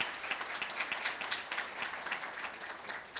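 An audience at a tax reform panel applauds the federal councillors present, giving steady, dense clapping at moderate volume with no voices over it.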